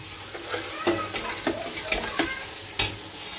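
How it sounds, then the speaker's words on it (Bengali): Ginger and garlic sizzle in a pan on a home stove, a steady close fry broken by several sharp scraping stirs of a spatula at irregular intervals. "রসুনটা আমার ভাজা ভাজা হয়ে গেছে, আদা রসুন।"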